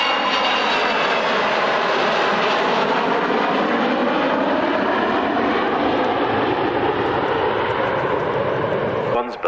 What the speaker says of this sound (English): Here it comes past with that massive 52-foot weapons bay open, virtually stretching the whole length of the fuselage of the Nimrod.